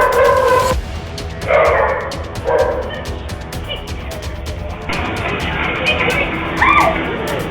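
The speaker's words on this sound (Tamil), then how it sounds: "ஜெர்மன் ஷெப்பர்ட் நாய் கேட்டை திறக்கும் போதெல்லாம் வெளியே வந்து" A German Shepherd dog in a street in West Tambaram, Chennai, barks several times in short, loud bursts near a gate, with street noise and some voices in the background.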